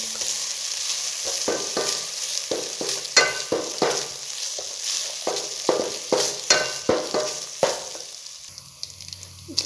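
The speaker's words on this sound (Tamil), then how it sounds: "அதை இதில் போட்டுருவோம். நல்லா கிண்டி" Cooked rice mixed with carrots being stirred in a pan, a soft continuous sizzle with repeated spatula scrapes and taps in an uneven rhythm, close by and with no talking.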